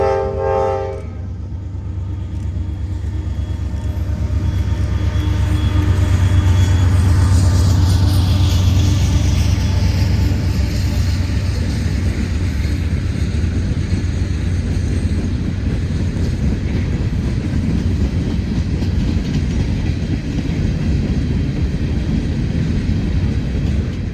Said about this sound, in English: Here we see CSX E600 making its way eastbound.